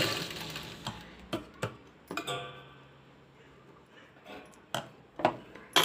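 Sewing machine stitching a blouse hook strip: sharp intermittent clacks and short mechanical bursts at close range, irregular and fairly quiet, with brief pauses between runs.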